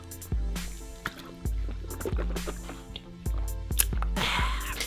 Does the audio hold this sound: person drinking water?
yes